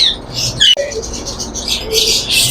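Pigeons such as White Danish and Blue Cherry Swallow pairs call in a bird shop in Rashidabad, Multan, with squawks and chirps mixed with cooing, fairly close and continuous over a busy background.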